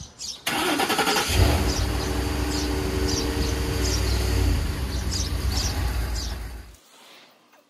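A pickup truck engine cranks and catches, then runs loudly and close for several seconds with a steady mid-pitched drone before shutting off into near silence.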